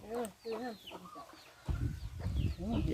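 On a farm, chickens cluck in short bursts of rising calls, fairly near but quiet, with a rumbling background and muffled sounds joining in the second half.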